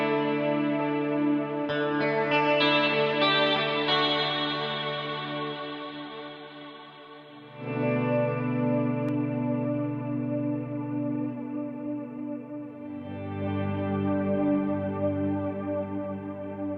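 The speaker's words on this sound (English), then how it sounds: "I'll just quickly show you what the 12 string sounds like" Sustained guitar chords through an HX Stomp 12-string effect, with a shimmering, doubled sound, ring out and change pitch a few times, thick and slightly chorused, with no talking.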